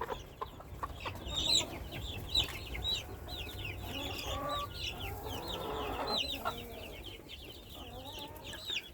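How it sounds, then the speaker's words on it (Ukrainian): Chicks cluck and squabble in a noisy coop, overlapping peeping and short harsh calls going on continuously. "Курчата сваряться."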